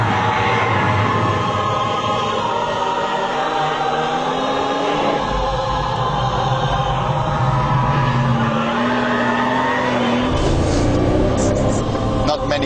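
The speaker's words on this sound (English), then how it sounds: "Cars that you can do four-wheel drifts like this with four-wheel drive." A four-wheel-drive car slides sideways in a drift, its engine droning loudly with rising and falling revs, while someone talks over the noise throughout.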